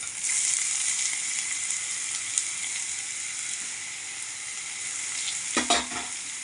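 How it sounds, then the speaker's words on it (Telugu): Cabbage fries in a hot pan, a steady close sizzle and crackle throughout, with a brief stirring clatter near the end. "ఎర్రగా వేగనివ్వాలి వేయిపోయి క్యాబేజ్ వేసేస్తాం"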